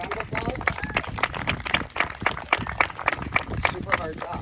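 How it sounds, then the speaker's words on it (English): A school board candidate meet-and-greet audience applauds teachers and educators, a dense, steady patter of many hands clapping over the full stretch, with a voice speaking through it. "I honestly think we got to give them a round of applause"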